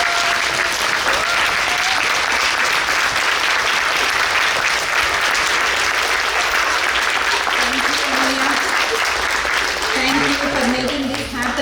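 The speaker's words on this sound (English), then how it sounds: "A standing ovation and a big round of claps to Guru Anuya." An audience at a Bharatanatyam arangetram rises in a standing ovation for the dance guru, clapping loudly and continuously, with indistinct voices rising under the applause toward the end.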